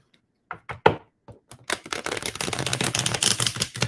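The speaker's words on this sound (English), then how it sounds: "The first bridge shuffle with a new deck." A new tarot card deck being bridge shuffled: a few sharp taps, then a dense, continuous crisp riffle of cards flicking together, close and fairly loud, with no talking.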